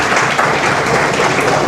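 Loud, dense applause from a seminar audience at an animation workshop in a college, steady clapping filling the room without a break.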